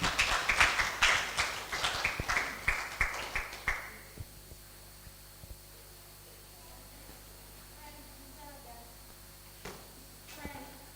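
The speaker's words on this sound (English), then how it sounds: "a hand of applause for Asha Abinala" Conference audience at a digital ecosystem report launch gives a short round of applause for Asha Abinala, a few seconds of sparse, echoing hand claps that taper off quickly into quiet room hum.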